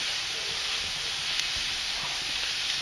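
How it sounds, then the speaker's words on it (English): Wild-caught Alaskan salmon sears in a pan with a steady, dense sizzling hiss, close and continuous. "You can hear everything sizzling nicely."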